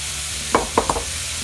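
Peppers and onions hit a hot pan, with a few quick stirring clatters over a soft, steady sizzle, close up and with no talking.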